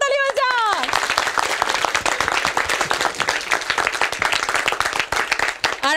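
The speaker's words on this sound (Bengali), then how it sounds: "সকলের জন্য একটা জোরে হাততালি হয়ে যাক" A college audience at New Alipore College applauds loudly after a Rohit Sharma versus Virat Kohli debate talk show, with dense, sustained clapping filling all six seconds and a brief voice at the very start.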